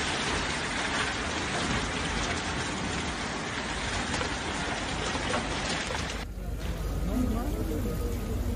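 Heavy rain and hail pour onto flooded streets in Azcapotzalco, Mexico, making a dense, continuous hiss of water that shifts abruptly in tone near the end.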